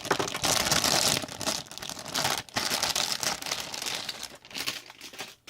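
Crinkly plastic bag torn open and crumpled while unboxing a Dijeh model kit, with dense, continuous rustling and crackling up close, brief pauses, and no talk.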